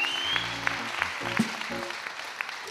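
Church congregation applause continues over sustained keyboard chords and a brief voice, claps coming in an uneven patter.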